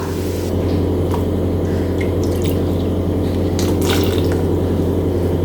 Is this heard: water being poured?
yes